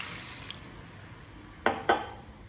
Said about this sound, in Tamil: 1 கப் தண்ணி ஊத்திக்கலாம்